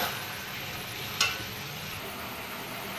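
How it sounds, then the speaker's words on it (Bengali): Rooster chicken curry sizzles steadily in a pan while being stirred and sautéed, a constant frying hiss with a single sharp clink of the utensil partway through. "এইবার শুধু নাড়াচাড়ার পালা, কষানোর পালা"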